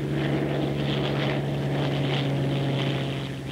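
A Bell P-39 Airacobra engine runs at takeoff power, 52 inches and 3,000 RPM, a loud, steady, close propeller roar with a strong low hum and no voices.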